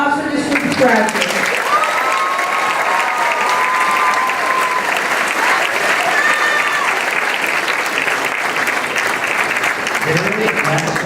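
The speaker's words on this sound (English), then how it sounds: "And a round of applause for this group's graduates." Loud, steady applause fills a high school graduation ceremony as the crowd claps for a group of graduates, sustained and dense throughout with faint voices underneath.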